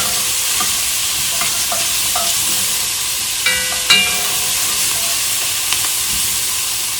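Spices are stirred into sizzling chipotle chili ingredients frying in a pan, a steady hiss and crackle with several brief scraping knocks of the spoon against the pot, close and fairly loud, no voices.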